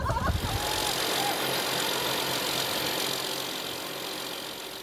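A John Deere tractor engine runs at a steady idle, a low rumbling drone with faint knocking that holds constant and eases slightly toward the end, with a brief burst of other noise at the start.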